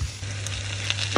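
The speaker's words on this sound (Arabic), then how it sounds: "البصل والفلفل تحطهم يتقلاو" Onions and bell peppers fry in a pan for a moment, giving a steady, close sizzle with a low hum beneath it and a few small crackles.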